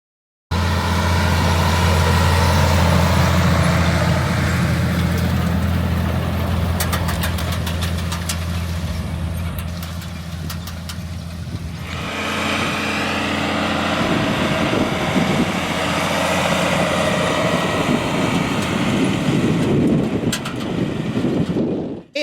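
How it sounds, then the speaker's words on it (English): A 1980s Chevrolet truck used for hauling seed sits in a farm field. Its engine gives off a loud, close, steady idling rumble that shifts in tone partway through, with no voices heard. "check out this sweet 1980s model Chevrolet truck out here in the field that they haul their seed in."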